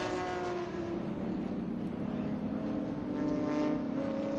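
Ford Capri and Mustang race cars roar around a circuit during a vintage race at NJMP, a steady, loud, dense engine drone with no break.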